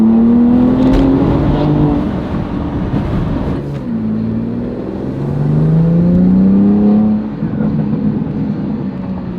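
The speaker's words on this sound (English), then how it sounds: "So all I hear is the valve open up and exhaust noise." A BMW M2 G87 with MAD front-mount intakes revs hard and holds steady, its exhaust droning loud and close with rising and falling pitch sweeps over about nine seconds.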